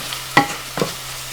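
Two brief scraping strokes of a spoon stirring garam masala, spices and ground paste together in a frying pan for a keema gravy, close and fairly quiet, with a faint sizzle between.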